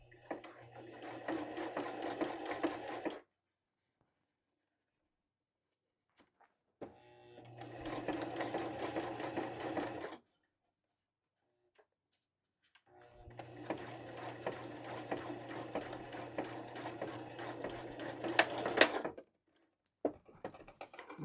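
A sewing machine runs a zigzag stitch in three bursts of fast, steady mechanical chatter with a low motor hum, separated by short silent pauses, close and clear.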